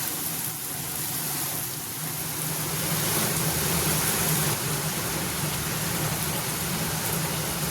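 Steady rain falls in a continuous hiss, fairly loud and unbroken throughout.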